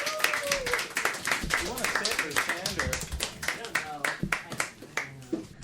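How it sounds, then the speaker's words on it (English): Scattered audience clapping at a comedy show, sharp individual claps in an uneven rhythm that thins out, mixed with talking and laughter in the room. "Everyone clap for OK, please. The time to clap is now."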